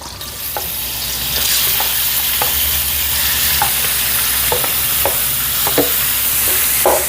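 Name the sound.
sautéing garlic, onion and pork belly in a pan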